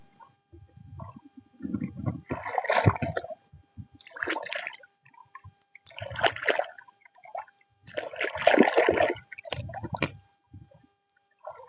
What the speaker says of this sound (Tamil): இதை நல்லா நான் கழுவி காமிக்கிறேன்